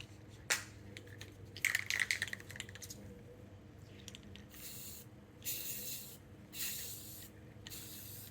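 Rust-Oleum 2-in-1 filler and sandable automotive primer sprayed from an aerosol can, several separate hissing bursts of a second or so, close and moderately quiet, after a few clicks and rattles.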